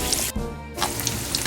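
Fried wontons sizzle loudly in a pan of hot oil, a dense crackling hiss with scattered pops that briefly drops away near the start before resuming at full, close-up intensity.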